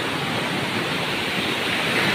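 A river in the mountains rushes along after a night of heavy rain, a steady, loud, broadband roar of flowing water that continues unbroken throughout.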